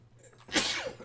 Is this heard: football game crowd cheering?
no